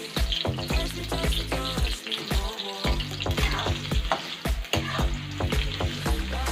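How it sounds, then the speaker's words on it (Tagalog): Potatoes fry in hot oil for a chicken curry, a loud, close sizzle with repeated scraping and stirring clatters layered over it. "Iprito natin yung patatas hanggang sa mag-golden brown siya."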